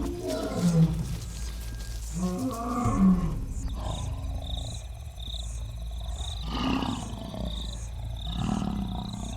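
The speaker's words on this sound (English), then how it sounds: "With a roar that resonates for 8 kilometers over the plains" A lion roars in deep, heavy bursts out on open plains, the guttural calls rising and fading in a rough rhythm over a low rumbling background.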